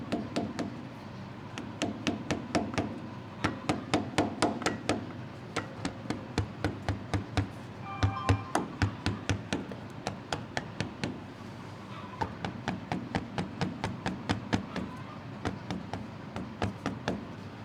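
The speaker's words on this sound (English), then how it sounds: "you take your hammer and go around and tap it like this." A hammer taps around a gasket to cut it out during work on an old diesel engine. The blows are light, quick and regular, coming in steady runs with short pauses between them, close and fairly quiet with nothing else heard.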